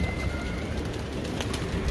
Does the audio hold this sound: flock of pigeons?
yes